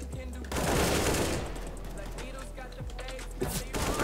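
Bursts of rapid gunfire in a CSGO competitive match, a loud volley at the start followed by scattered shots, with players talking over the action.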